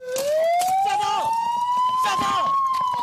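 A loud, close police car siren wails in a steady rising tone during a chase of a car that would not stop, with voices and background commotion mixed underneath.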